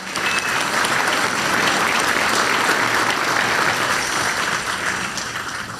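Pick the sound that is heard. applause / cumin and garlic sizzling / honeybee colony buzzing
applause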